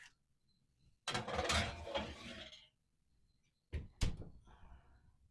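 A cookie tray goes into a home oven set to 325, with a metallic rattling clatter as it slides in. A pause follows, then the oven door shuts with two quick thuds, close and moderately loud.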